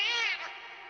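A cat meows once in Final Fantasy XVI, a single clear, close, rising-then-falling call with no other sound around it.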